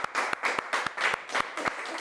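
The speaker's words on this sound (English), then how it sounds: "Can we just have a round of applause again for Andy, David and Ed?" Studio applause for the guests of a live football fan TV show, a dense crowd of hands clapping steadily at moderate loudness, with sharp individual claps popping out of the steady wash.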